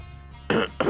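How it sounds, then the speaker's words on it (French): Two sharp coughs close to the microphone, one after another, following a moment of near quiet. "Pardon, je tousse."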